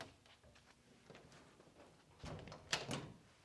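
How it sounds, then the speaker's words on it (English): A door is pushed shut in a quiet indoor space, making a soft thud at the end of a few faint shuffles. "I'm just going to shut that door."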